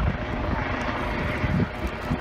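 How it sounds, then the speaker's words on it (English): A helicopter passes overhead during outdoor crabbing by a boat, making a low, steady rumble that fills the whole brief moment. "Also, sorry for the helicopter."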